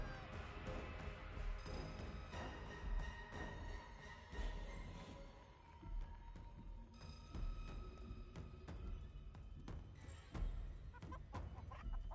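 Chickens cluck and squawk repeatedly in a video game about fighting chickens, mixed with scattered crashes and impacts in a busy, continuous game soundscape.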